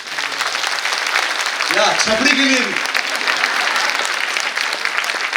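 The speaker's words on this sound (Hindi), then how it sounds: "आइए तीनों के लिए ताली बजाइए," Applause from a church festival audience (a Christian youth gathering in Chaibasa), a steady wash of clapping from a crowd filling the whole stretch, with a voice speaking briefly over it.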